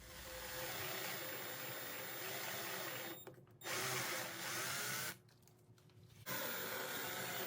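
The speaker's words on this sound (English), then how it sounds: "that's with a 332 drill bit for pilot holes" A power drill with a 3/32 bit drilling pilot holes for a table whirs steadily in several bursts, with two short pauses between runs, loud and close.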